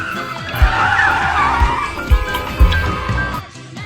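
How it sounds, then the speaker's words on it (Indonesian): A brand-new car braking suddenly, its tires skidding and squealing in a sustained screech with a few heavy thumps underneath. "Yina yang kaget langsung rem mendadak"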